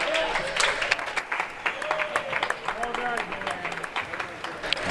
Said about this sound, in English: Let's give all of our contestants a warm round of applause.